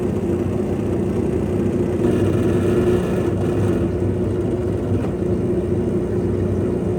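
A car engine runs loud and close for the whole stretch, its steady drone lifting and dipping slightly as the transmission struggles and shifts roughly, with no talk over it.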